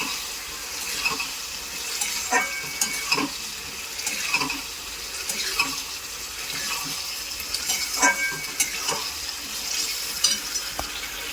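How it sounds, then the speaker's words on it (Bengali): Gobindobhog rice and pointed gourd fry in a pan, a continuous close sizzle broken by repeated scraping strokes of a stirring spoon. "দেখুন গোবিন্দভোগ চালটা দিয়েছি কি সুন্দর ভাজছে"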